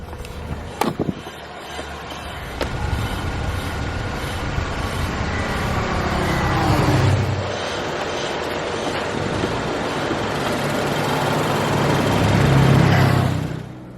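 A 2012 Range Rover Evoque Overfinch with a 2-liter turbocharged four-cylinder runs as a steady engine drone, with a couple of sharp clicks at the start and two swells in loudness, and no talk.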